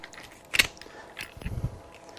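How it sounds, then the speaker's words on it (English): A cable lock scrapes and clicks as it is threaded through a shotgun's ejection port, a few short metallic rattles and a sharp clack, close and quiet. "Shotguns, thread the lock through the ejection port"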